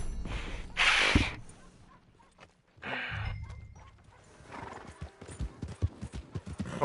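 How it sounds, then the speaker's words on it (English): A horse in Red Dead Redemption 2 Online gives a sharp whinny, then a second snort-like burst, followed by irregular clopping hoofbeats that grow busier and louder near the end. "But all I know is this horse is hot trash."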